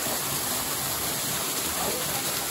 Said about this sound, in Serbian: Ovo je vodopad koji najstrašniji u Srbiji